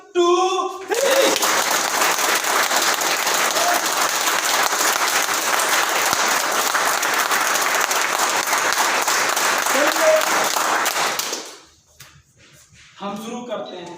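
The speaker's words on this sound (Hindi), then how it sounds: "ये जो ताली की आवाज है कानों तक तो सबके जाती है" A large seminar audience breaks into loud, steady applause for roughly ten seconds, then it fades out, with a speaker's voice briefly heard at the start and end.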